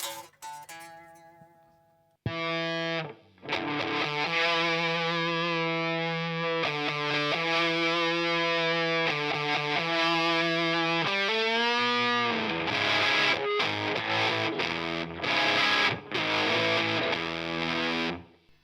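Boss and Solar Sound Tone Bender fuzz pedal sagged to about 6.5 volts, giving a loud, sustained distorted electric guitar tone with held chords and notes that sputter and break up toward the end.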